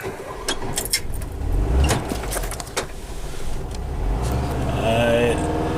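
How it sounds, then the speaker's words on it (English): A 1974 Volkswagen Westfalia automatic camper van idles with a low, steady air-cooled rumble inside the cab, with door and seat-belt clunks early on and someone talking over it. "It's that beautiful VW engine sound."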